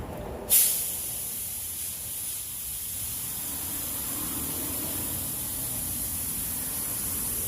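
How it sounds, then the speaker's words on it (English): Spray gun at low pressure laying clear coat on a Toyota Tacoma body panel in an auto body shop, a steady close hiss that starts after a brief pause and runs without a break. "I'm going to spray this with low pressure, and I'm just trying to get a nice high gloss on it"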